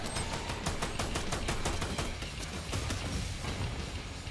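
Rapid bursts of gunfire from the Free Fire battle royale game ring out in a steady, loud stream of sharp shots through the whole stretch, with no voices over them.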